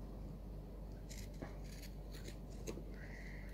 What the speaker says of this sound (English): and I just grab my pinking shears